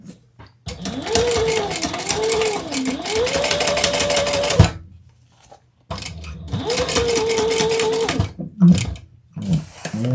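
A sewing machine stitches leather in two long steady runs separated by a pause, its motor whirring loudly and rising and falling in pitch, followed by brief handling noises.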